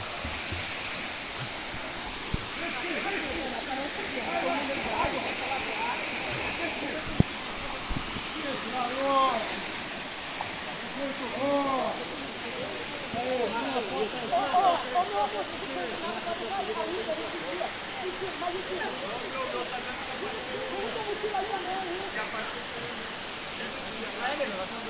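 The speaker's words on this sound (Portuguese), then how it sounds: "Isso aí, domingão, cachoeira da Janjana para refrescar." The Janjana waterfall gives a constant broadband rush of falling water, and voices talk faintly over the steady roar throughout.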